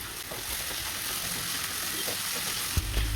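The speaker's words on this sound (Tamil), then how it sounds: "இதையும் சேர்த்து நல்லா வதக்கி விட்டுடலாம்" Soaked peas frying in a pan of samosa filling give a close, steady sizzle, stirred now and then, with a louder clatter of the pan near the end.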